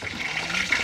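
Water runs steadily from a tap in a Filipino household, a brief continuous hiss and splash heard close by with no talk over it.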